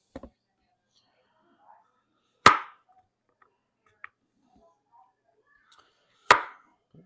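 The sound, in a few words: chopping a carrot into rounds with a kitchen knife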